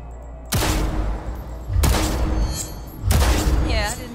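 Three heavy gunshots spaced over a few seconds during tactical target practice in Cyberpunk 2077, each a loud sharp blast with a booming tail.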